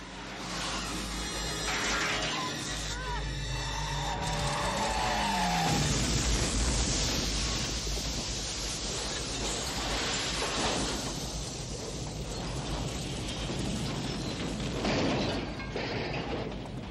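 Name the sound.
film scene of a truck exploding in a huge fireball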